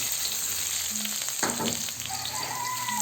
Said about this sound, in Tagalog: Lutuin lang natin ang sibuyas ng 2 minuto or hanggang sa lumambot na ito.